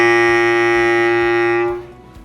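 A bass clarinet holds a single sustained low C, rich in overtones and close-miked, steady for under two seconds before it cuts off into a brief fading tail.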